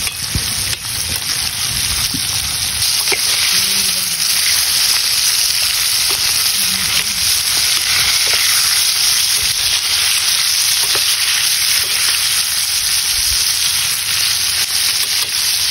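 Chicken intestines deep frying in hot oil, a steady loud sizzle and bubbling crackle that carries on without a break, close up, with no talking.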